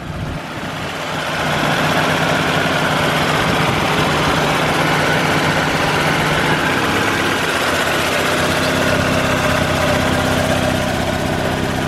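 A turbocharged Mazda Miata fitted with a new, bigger turbo idles nearby. After a brief quieter opening, a steady, even engine rumble and hum fills the rest of the clip with no speech.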